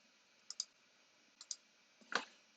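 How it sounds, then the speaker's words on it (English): A computer mouse makes two quick double-clicks, close and crisp, and then a louder single click in a quiet room. "And after clicking on create"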